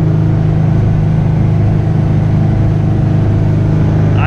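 A car engine fitted with newly installed Hardin mufflers idles and hums loudly and steadily nearby, a constant low exhaust drone with no clear revving peaks.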